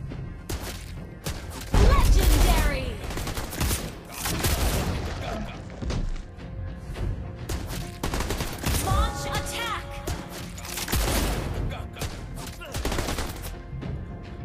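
Rapid gunfire bursts and booms from the Mobile Legends mobile game, with the hero Clint in a skin, dense and loud throughout, layered with game effects and chimes.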